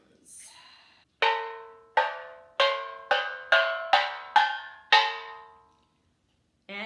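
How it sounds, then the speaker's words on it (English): A small steel drum bought in Jamaica, struck in a quick run of eight bright, ringing metallic notes, each with a sharp attack and short decay, close and clear with no talk. "I actually got this steel drum, this little one, in Jamaica. And here's how it sounds."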